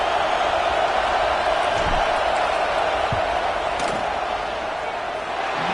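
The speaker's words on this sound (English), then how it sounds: "This crowd trying to do its part to get inside the kicker's head" Football stadium crowd at a Memphis game roars steadily during a field goal attempt, a dense continuous wash of noise with faint thuds underneath.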